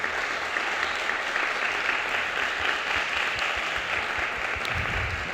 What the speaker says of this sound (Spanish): Un aplauso pues para Bruno, para Pedro y para Patricia